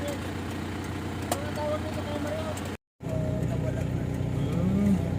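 A car engine idles steadily after a roadside repair, a low continuous rumble running under people talking, broken by a brief cut.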